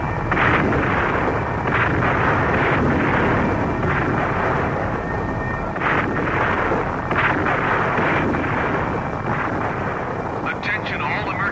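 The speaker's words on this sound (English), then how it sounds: "Petroleum explosion in docking bay 7." A radio drama petroleum explosion effect: a long, roaring rumble with repeated heavy bursts and crackling blasts, sustained and loud, ending in a brief fizzing tail.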